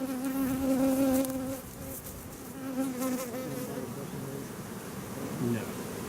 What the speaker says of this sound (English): here's another hive body full of bees. I mean, these bees have really gone crazy